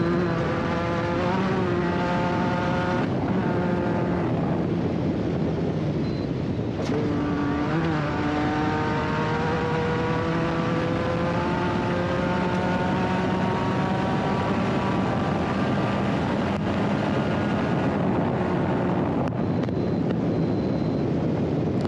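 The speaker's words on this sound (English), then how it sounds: "I'm just going to take just a brief second here to listen in to PJ and just see how the car is running" An off-road race car running on a NORRA Baja rally stage between San Ignacio and Loreto, its engine a steady, loud drone with shifting pitch and strong wind rush throughout, no voices.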